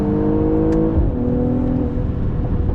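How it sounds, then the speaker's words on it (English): A Mercedes-AMG GLE 53 pulls hard under full acceleration from inside the cabin, its engine rising steadily in pitch with a loud whirring drone and a brief shift partway through. "I'm even going to do full acceleration going in the corner"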